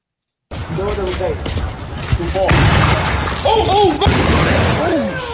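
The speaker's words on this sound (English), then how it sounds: "Now, fireworks in the hood." Fireworks going off in a city neighborhood, a run of loud booms, crackles and sharp bursts overlapping one another, with people's voices and shouts heard across much of it.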